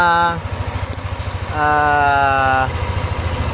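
A Yamaha NMAX scooter engine idles unevenly, its steady low putter rising and dipping in pitch, close up and loud throughout, with a possible ignition coil fault.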